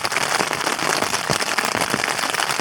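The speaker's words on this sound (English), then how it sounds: "that rain is coming down now" Heavy rain pours down on a camping tent pitched with cheap Tesco value gear, a dense, steady hiss of countless drops pattering close overhead and never letting up.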